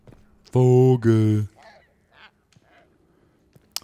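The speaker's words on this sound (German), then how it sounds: "Vogel." Bird call in the video game Dragon Age: Inquisition: two loud, harsh honking cries in quick succession, goose-like, followed by faint scattered rustles and clicks.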